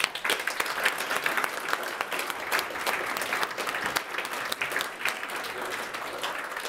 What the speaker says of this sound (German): Wir können noch mal einen ganz kräftigen Applaus für alle Gruppen.